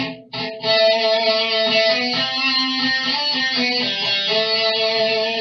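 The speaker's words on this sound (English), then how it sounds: "we're going to come in with a harmonizing guitar solo" A distorted electric guitar solo with layered lines moving together in harmony, loud and continuous, with sustained bending notes.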